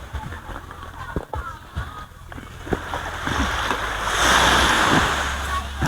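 Sea waves wash against the shore at a seaside campsite in Calatagan, Batangas, a steady surf hiss that swells louder toward the end, mixed with scattered nearby clicks and rustles.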